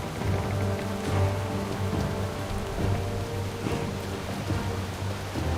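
Steady rain pours down continuously in World of Warcraft, a dense hiss of drops with faint low rumbling underneath, no voices.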